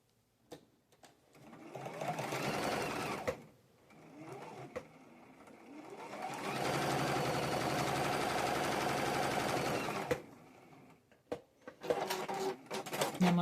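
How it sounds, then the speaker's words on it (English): A domestic sewing machine stitching quilt pieces runs in several bursts, the longest about four seconds, with a steady whirring motor and rapid needle rhythm, close by, separated by pauses with small handling clicks. "I'm going to sew the one on the other side."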